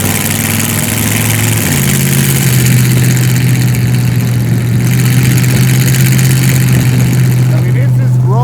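A Willys jeep hot rod's engine runs loud and steady with a deep drone that settles to a lower pitch partway through, heard from inside while driving, with people talking over it.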